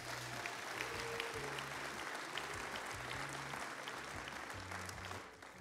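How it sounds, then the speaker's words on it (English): A church congregation applauds its high school and college graduates with steady, fairly faint clapping that goes on for several seconds and tapers off at the end, with a low hum underneath. "So can we start off services giving them a round of applause?"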